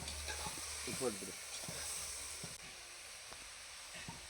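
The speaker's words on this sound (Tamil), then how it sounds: "நம்ம க்ளீன் பண்ணி வச்சுருக்கிற மஷ்ரூமை ஆட் பண்ணி நல்லா மிக்ஸ் பண்ணி விட்டுறலாம்" Mushrooms sizzling as they are stirred into fried tomato in a pan for mushroom biryani, a steady broadband hiss with scraping stir strokes throughout.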